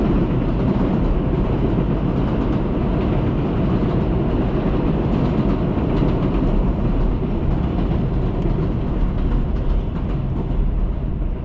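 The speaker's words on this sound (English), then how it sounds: "I wait until the train passes." A New York City 7 subway train rumbles steadily past for the whole stretch, a dense continuous roar with faint rhythmic clatter, loud and close, no voices.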